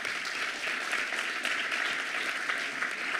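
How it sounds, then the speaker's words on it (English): Steady, dense applause from a conference audience in a hall at an international conference, continuous and fairly loud throughout with no speech over it. "Vous pouvez par contre les applaudir avant les infos."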